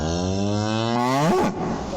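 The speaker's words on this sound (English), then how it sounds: "Wow, that was kind of an aggressive moo." A single loud, forceful cow moo, close by, swells and then bends upward before cutting off abruptly.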